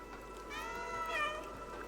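Repeated high, wavering cat meows from the video game Stray, a few synthetic-sounding mews rising and falling over a steady background hum, fairly quiet.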